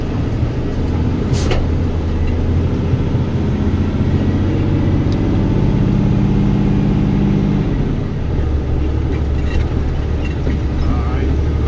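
Big truck driving slowly through a residential neighborhood, a loud close diesel rumble with a steady low drone and a shift in engine note partway through, heard from inside the cab.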